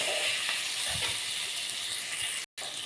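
Mushrooms and spices sauté in a pan for mushroom gravy, giving a steady, even sizzling hiss at close range with a few faint clinks, then a very short gap near the end.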